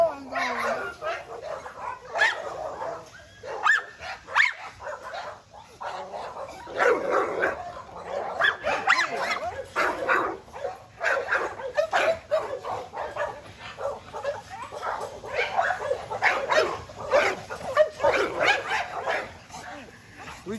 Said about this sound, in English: Like you got dogs back here, man.